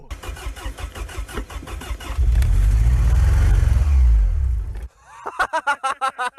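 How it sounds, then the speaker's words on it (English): An old BMW car engine, buried for a year and then dug up, cranks in rhythmic bursts, catches, and roars into loud, sustained revving for a few seconds before cutting off, followed by a short run of tonal pulses. "lo and behold, the engine actually started"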